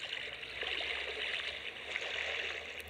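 Faint, steady trickling and gurgling of water in the Gangstar Vegas video game, a soft continuous stream sound with no talk.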